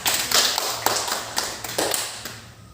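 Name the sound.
class clapping hands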